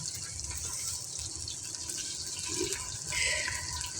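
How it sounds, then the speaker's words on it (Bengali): Water poured into a pan of frying spices while cooking on a rooftop gives a soft, steady watery rush at low level, with no talk. "এখন মশলা কষানোর জন্য একটু পানি দিতেছি।"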